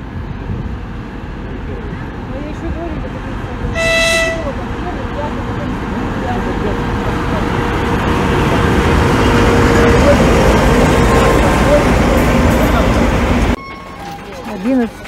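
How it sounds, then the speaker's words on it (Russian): A passenger train pulls into a station past parked freight cars, its horn giving a short tonal blast near the start over steady rumbling rail and traffic-like noise, with people talking throughout. "Вот он прибывает, поезд наш."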